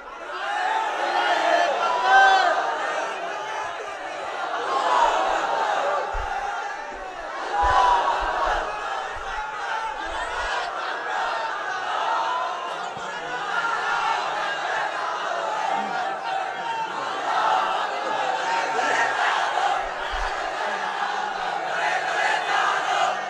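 Crowd at a Bangla Islamic sermon gathering chanting slogans in unison, a rough roaring chorus of voices rising and falling in waves, with a few low thumps underneath.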